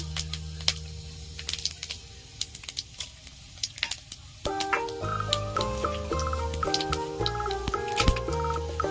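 Panch phoron spices and dried red chillies crackle in hot oil for a Bengali dal, sharp pops and spits scattered throughout, with background music entering halfway and carrying on beneath the frying.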